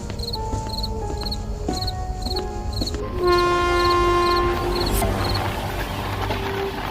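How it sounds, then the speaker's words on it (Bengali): A train pulls into a station at midnight with a low rolling rumble, steady horn or whistle tones rising midway, and crickets chirping faintly in the night background. "মধ্যরাতে ট্রেনটি এসে দাঁড়ায় স্টেশনে"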